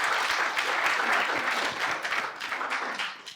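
Applause from a conference audience at a scale-up entrepreneur round table, a steady burst of clapping that holds for a few seconds and then thins out toward the end.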